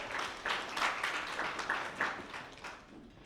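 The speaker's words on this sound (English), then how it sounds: "Please give a round of applause" Audience applause at the Dallas College Future Procurement Leaders Summit, a steady wash of many hands clapping at moderate level, with a few louder bursts and fading slightly toward the end.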